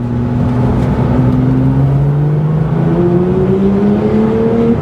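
A 2019 Porsche 911 GT3 RS with a titanium exhaust drones throatily and steadily as the revs climb gradually, the pitch rising smoothly from inside the car.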